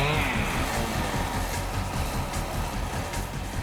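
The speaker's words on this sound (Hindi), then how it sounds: "हम तुम्हें कुछ बाइक्स की आवाजें सुनाएंगे।" A bike's engine drones continuously at close range, a rough, steady mechanical rumble with a faint rising whine at the start, heard on its own without voices.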